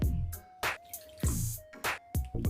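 About half a cup of water splashes and drips into a pan of fenugreek curry in several separate bursts, close and fairly loud, with a faint steady tone underneath.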